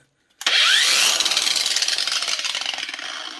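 An Aldi cordless angle grinder starts with a soft ramp and runs alone at a steady high whine close by, its tone slightly wavering as it spins on.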